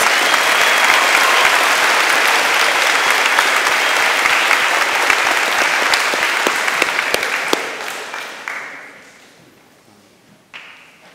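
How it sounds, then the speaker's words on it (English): At an NJHS induction ceremony, an audience gives the new officers loud, continuous applause that holds strong for several seconds, then tapers into a few last scattered claps. "Can I have a round of applause for these new officers?"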